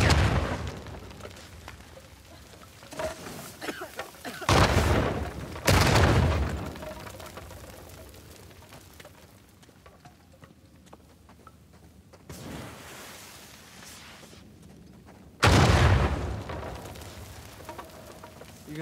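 Several loud explosion bursts from the Uncharted 4 video game, arriving in separate blasts with quieter rumbling stretches between them, the last one heavy and sudden.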